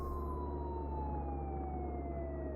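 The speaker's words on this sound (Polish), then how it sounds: "Co tak ta syrena głośno wyje" A siren wails steadily in Contraband Police, its pitch sliding slowly downward, over a constant low engine-like rumble. No one speaks.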